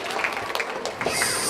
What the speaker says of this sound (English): Can everybody give everybody a round of applause?